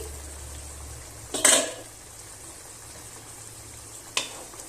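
A metal lid comes off a pot of vegetarian cauliflower curry (phulkopir dalna) with one sharp clatter, followed a few seconds later by a second, lighter clink against a quiet kitchen background.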